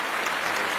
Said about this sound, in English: let's have a big round of applause for the 25-year birthday of Wikipedia